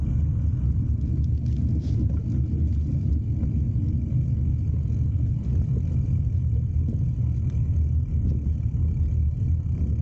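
A road vehicle's engine drones steadily on a drive, with a deep continuous rumble and road noise and no clear downshift shifts standing out.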